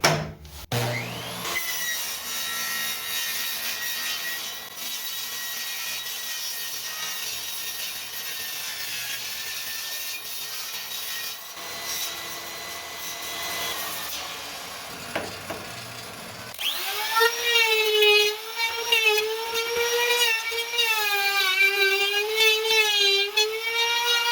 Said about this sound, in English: I cut the shell of the 12